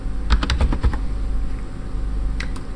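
Rapid cluster of keystrokes on a computer keyboard, close and crisp, followed by a pause and two final taps.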